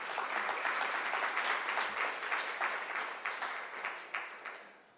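An audience applauds a speaker at a public hearing, dense sustained clapping from many hands in a room that swells briefly and then fades out toward the end.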